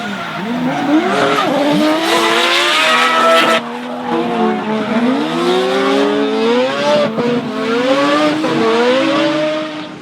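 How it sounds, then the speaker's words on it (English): At a D1NZ drifting championship round in Taupo, a Nissan R34 Skyline leads a tandem drift run with a chase car close behind. Loud, continuous engine revving rises and falls, layered with screeching tire squeal throughout. "during the 2 reruns with Nico Reed, the Autoshaw R34 Skyline putting on a stunning lead run, and the Mad Bull sticking a close chase."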